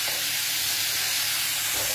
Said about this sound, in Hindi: अब हमने डाल दी है और ये धीमी आंच में पकती रहेगी स्लोली स्लोली।